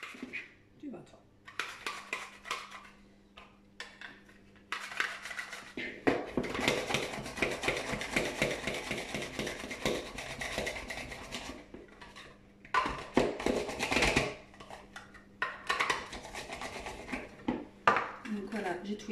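A knife slices half an apple on a wooden board during a French home baking session for apple strudel, giving rapid, repeated chopping taps in dense bursts with short pauses between them.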